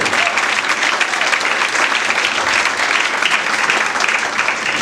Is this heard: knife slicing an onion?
no